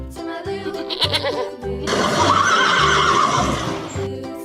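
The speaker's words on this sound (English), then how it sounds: "Horse." A horse neighs close and loud, with a long whinny that fades out near the end, preceded by a brief shorter call, all over a steady thumping music beat.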